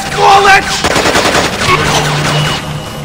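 Rapid bursts of automatic gunfire from a video game shootout, loud and close, firing in quick volleys with short gaps between them.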